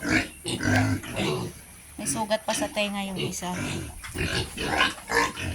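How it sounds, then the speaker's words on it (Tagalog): Pigs and a young piglet grunt and oink in a farm pen, short close grunts scattered between a person talking throughout. "Yan, baboy. Baboy. Tapos merong biik."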